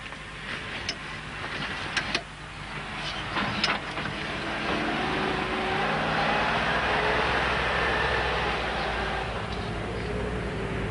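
A Land Rover descends a slope slowly under control, its engine a low steady rumble at a moderate distance, with a few sharp ticks and knocks early on before the drone settles.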